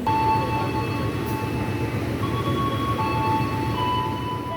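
A container freight train rolls through Cirebon Prujakan station, a steady low rumble of wheels and wagons sustained throughout, with faint tonal squeals and hum above it; no one speaks.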